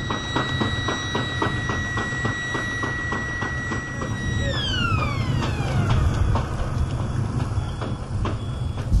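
A siren wails in steady tones, then its pitch glides downward as it passes, over a constant rumbling background.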